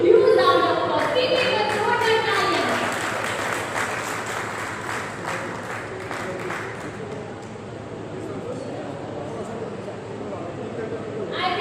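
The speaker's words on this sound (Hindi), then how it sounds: "Please तालियां बहुत जोर की बज जाए, तालियों की कुर्सी मत करिए" Audience applause at a business association event in India fills the room, dense clapping loudest at the start and gradually thinning, while a voice on a microphone speaks over it.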